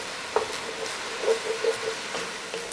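Ground beef and onions fry in a Dutch oven, giving a soft, even sizzle with a few light scrapes and stirring knocks, close and moderately quiet with no talking.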